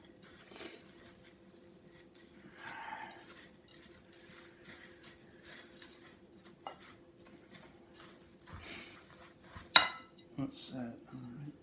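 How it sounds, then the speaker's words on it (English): A utensil mashes and stirs fruit in a bowl to make horse treats, heard as soft intermittent scraping and clinks with a sharper knock near the end, faint and close, with a few quiet voice sounds. "Keep mashing."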